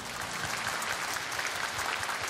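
Congregation applauding in a church worship service, a continuous, even wash of clapping from many hands.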